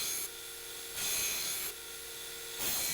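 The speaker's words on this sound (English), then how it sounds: "I'm going to go ahead and put some preliminary bevels in here before heat treat" A chef knife blade ground with preliminary bevels before heat treatment, a harsh abrasive hiss rising and falling in long passes of about a second each, close and loud with no voices.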